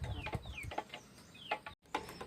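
Chickens cluck softly and fairly close while being fed, giving a few short, scattered calls and chirps against a quiet background.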